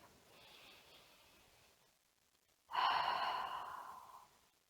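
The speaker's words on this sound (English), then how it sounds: "Inhale in through the nostrils, centering yourself." A slow yoga breath drawn in through the nostrils, faint and airy at first, then a louder, fuller inhale that fades out, heard close with no talking.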